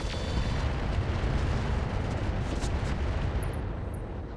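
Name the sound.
weapon fire on an Orion mech in the video game RogueTech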